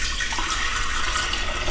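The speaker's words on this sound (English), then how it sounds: "just pour water." Water pours in a steady, rushing stream from a tap into a sink, filling the whole moment with a continuous close splashing hiss.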